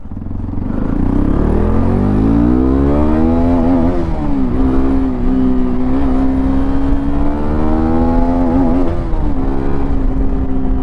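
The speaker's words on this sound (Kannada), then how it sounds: "ಎಕ್ಸಾಸ್ಟ್ ಸೌಂಡ್ ಈ ಥರ ಕೇಳಿಸುತ್ತೆ." A 2025 Hero XPulse 210 off-road motorcycle's exhaust, loud and close while riding, with a steady droning engine note that climbs and dips through several throttle changes and gear shifts over about eleven seconds.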